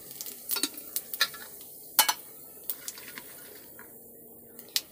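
Cumin seeds crackle and spit in hot oil, a scatter of sharp sizzling pops at close range over a quiet, steady frying hiss.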